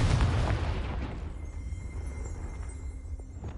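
A Confringo spell explosion in Hogwarts Legacy on PS4 strikes with a loud, booming blast, then rumbles and fades into a low echoing tail with faint debris ticks.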